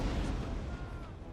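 Cannon artillery fire in the Napoleonic battle game Napoleon Total War, a dense rumbling barrage of booms merging into a continuous low roar.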